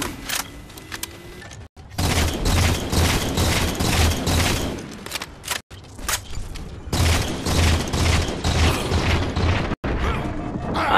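Gunfire in the game Halo 4, loud sustained bursts of rapid shots broken by brief silent gaps, with mechanical clatter between volleys.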